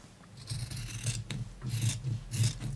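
Fabric for a bow tie being trimmed, quiet rasping cuts repeating in three or four short strokes with brief pauses between, close and soft with no talking.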